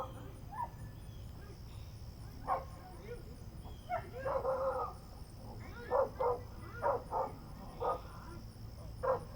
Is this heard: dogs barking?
yes